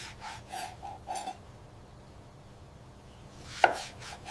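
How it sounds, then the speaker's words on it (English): A knife slices red tomatoes into wedges on a board for bitter melon sour soup: a few soft, rhythmic cuts early on, a quiet pause, then one sharper chop near the end, close and alone. "Next, our juicy red tomatoes. Cutting them into wedges for the broth."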